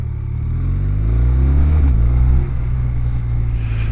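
A BMW R12 motorcycle with a boxer engine runs nearby, a loud deep rumble that rises in pitch briefly as it revs, then drops back to a steady lower drone.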